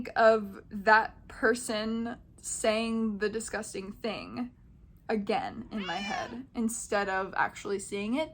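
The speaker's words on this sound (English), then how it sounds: "I'm really sorry about my cat." A cat meows in the background while a person keeps talking over it, the cries faint and partly buried under the steady speech.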